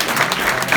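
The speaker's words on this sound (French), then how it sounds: "on applaudit pour eux" A crowd at a rap battle event gives a short, dense burst of steady applause.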